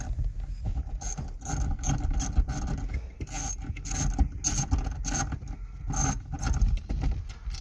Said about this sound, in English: we're going to undo those three bolts